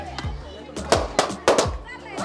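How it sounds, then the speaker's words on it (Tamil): Balloons popping during a village children's game produce several sharp, close bangs in quick succession while someone talks loudly over them. "பட்டாசு வெடிக்குது, பலூன் வெடிக்குது."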